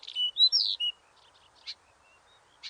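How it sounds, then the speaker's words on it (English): Birds chirping in a quiet outdoor setting, with a quick run of high, clear tweets up front and then two short isolated chirps after pauses, close and distinct against a near-silent background. "The birds are chirping."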